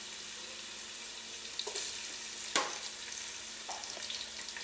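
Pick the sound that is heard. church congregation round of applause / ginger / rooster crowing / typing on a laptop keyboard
ginger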